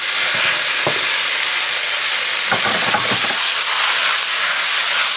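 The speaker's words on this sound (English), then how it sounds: "So we're gonna deglaze it." Wine is splashed into a hot pan to deglaze it while cooking Vizcaína-style cod, setting off a loud, steady hiss and sizzle with a few brief crackles and pops close by.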